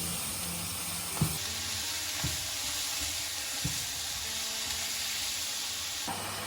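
Bell peppers sizzle steadily in a frying pan, a constant hiss with a few soft clunks of stirring utensils, no voices.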